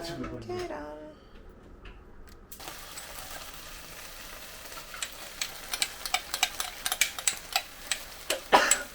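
Noodles and egg frying in a home frying pan, a soft sizzle with sharp clicks and taps of a utensil scraping the pan growing busier toward the end; a voice speaks briefly at the start.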